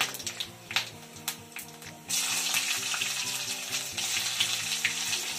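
Cumin, chilli and curry leaves hit hot oil and burst into a sharp, loud sizzle, after a few spattering pops and clinks of utensils. The hiss then holds steady and close.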